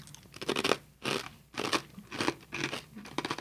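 Close, crisp crunching bites and chews of a garlic chive crouton snack from Finland, in several loud bursts separated by brief pauses, with no talk.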